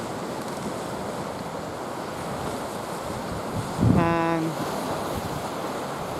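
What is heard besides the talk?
ocean waves at the shore in Bar Harbor, Maine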